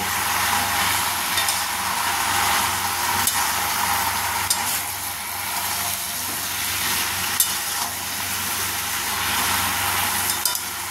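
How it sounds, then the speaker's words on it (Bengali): Malabar spinach cooking with a fish head in a covered pan, a steady loud sizzle with occasional clinks of a spatula stirring, continuous throughout and with no speech. "মাঝখানে নাড়তে থাকবো, দিয়ে চাপা দিয়ে দেবো।"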